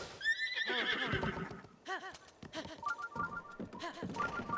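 A horse in the video game Breath of the Wild gives a couple of quiet, high whinnies and snorts alongside soft, uneven clip-clopping hooves.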